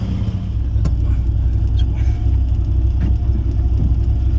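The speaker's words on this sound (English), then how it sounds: "just want you to have a listen to this idle" A VW Mk1 fitted with a 272 cam idles close by, a loud, lumpy low rumble that pulses unevenly. A few faint clicks and knocks sit over the steady engine note.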